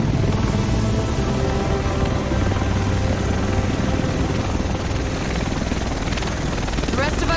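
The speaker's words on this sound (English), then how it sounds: "The rest of us should be in this chopper" A helicopter arrives in The Division, set in Manhattan, its steady loud rotor roar filling the whole stretch while game characters talk over it.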